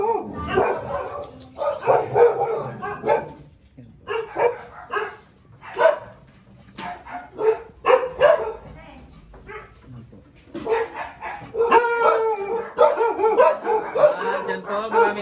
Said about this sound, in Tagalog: Balik po kami sa labas, ang daming aso.